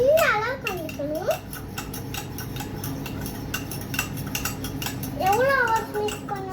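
Mug cake batter sweetened with palm jaggery stirred in a cup, a spoon clinking and scraping against the sides in quick bursts while a child and an adult chatter throughout.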